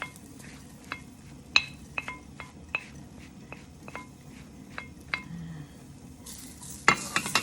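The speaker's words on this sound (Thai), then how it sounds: "คั่วให้แห้งนะคะ" Black beans dry-roasting in a pan are stirred with a utensil, giving a faint dry rustle broken by a dozen sharp metallic clicks and scrapes at irregular intervals, with a louder clatter near the end.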